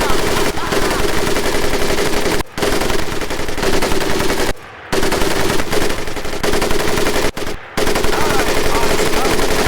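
Tommy gun in the Pacific-theater shooter Medal of Honor Pacific Assault, loud sustained automatic bursts of rapid rounds with a few short gaps between bursts, close and dominant, with faint voices beneath.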